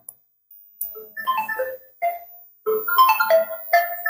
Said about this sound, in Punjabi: ਫੋਨ ਤੇ ਫੋਨ ਲੱਗਿਆ ਵੇ ਫੋਨ ਤੇ ਫੋਨ